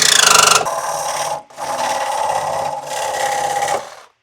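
A power tool cuts through the exhaust of a Porsche Cayman S with a loud, steady, harsh buzz, in three long passes broken by brief pauses and alone without talk.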